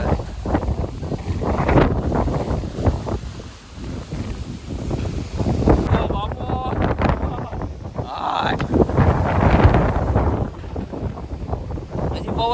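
Strong storm wind roars and buffets the microphone in a loud, continuous rush that swells and gusts throughout, with a person talking and exclaiming over it.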